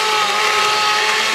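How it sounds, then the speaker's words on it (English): An immersion blender whirs loudly and steadily while pureeing broccoli cheese soup, a constant high motor drone with no talking over it. "Immersion blenders are not that expensive."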